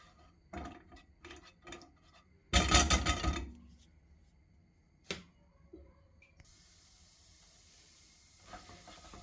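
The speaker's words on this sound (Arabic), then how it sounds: "هنا فص ديال الثوم اللي غادي نشحروه شويه" A garlic clove sizzles in about three spoonfuls of olive oil, with a loud burst of hissing crackle as it hits the pan, then a low simmer, and scattered clicks and taps of cookware before and after.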